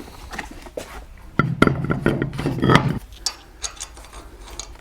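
A ratchet wrench tightening lug nuts on a trailer wheel, a close, loud run of quick metallic clicks for about a second and a half, with softer scattered clicks and clanks before and after.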